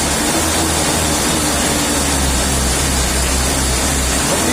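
A diesel engine runs steadily, with a loud, rough low rumble and a continuous mechanical clatter heard up close, unbroken for a few seconds with no talking.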